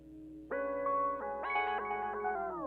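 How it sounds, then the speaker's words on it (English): A melodic music sample runs through a delay plugin set fully wet, sustained tones stepping between chords with echoing repeats, moderately loud and alone without voices. "all you will hear is just that delay thing that's going on"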